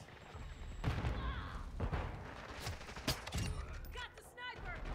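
Gunfire in Modern Warfare 2, a multiplayer match with sniper shots through walls: several sharp shots and thuds scattered irregularly across the moment, mixed with other in-game noise and faint voices.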